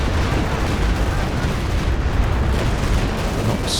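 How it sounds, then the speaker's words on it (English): Walking Stuka rocket barrage in Company of Heroes 2, a dense continuous rumble of rocket impacts and explosions rolling steadily with no clear gaps, loud and booming throughout. "Here comes the next walking Stuka barrage."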